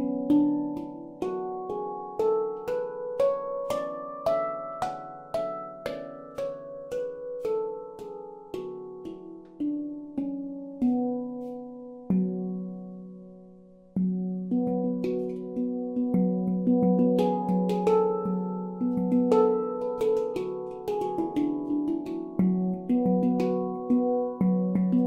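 A handpan played through an unamplified EnSoul pickup gives a clean sound: a flowing sequence of resonant, bell-like struck notes that ring and overlap, first descending then settling into lower repeated tones, with a brief pause midway.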